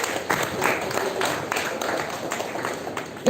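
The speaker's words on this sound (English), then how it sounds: "Give him a huge round of applause." An audience applauds a prize winner at a school Republic Day celebration, with steady, moderately distant clapping that holds throughout.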